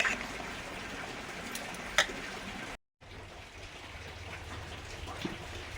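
Rain falls outside in a steady, soft wash of patter, faint and even apart from one brief gap and an isolated louder drip.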